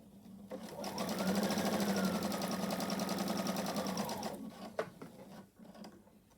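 A sewing machine stitches fabric for an apparel construction sample, whirring loud and close in one steady run for about three seconds before it stops with a small mechanical clunk.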